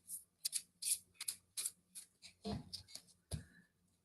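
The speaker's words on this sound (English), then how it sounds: "Okay, so I'm shuffling the Angel Tower cards" Angel Tower tarot cards shuffled by hand during a reading, a quiet series of crisp riffling flicks and soft slaps in an uneven rhythm, close and faint, with no talk.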